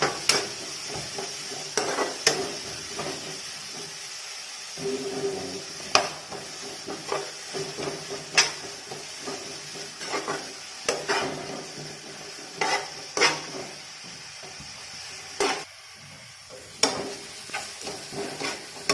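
Kerala chicken stew ingredients are sautéed in a pan until golden, with a continuous sizzle and repeated scraping and clinking of a spoon against the pan at a steady, uneven rhythm, close by and with no voices.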